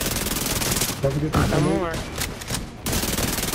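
Bursts of automatic gunfire in the Division 2 video game, a loud steady rattle running through most of the moment, briefly giving way to voices talking in the middle before the shooting resumes.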